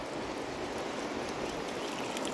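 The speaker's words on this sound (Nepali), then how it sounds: "पहिला आँपको बोटमा थोरै पानी हाल्दिउँ" Water flows from a hose pipe onto the base of a mango tree outdoors as a continuous, even gushing and splattering.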